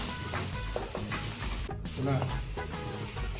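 Steady sizzling of chopped tomatoes frying in a pan, with stirring scrapes and a voice talking over it throughout.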